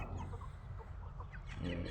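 Several pet chickens cluck and murmur close by at feeding time, with short overlapping calls and no talking.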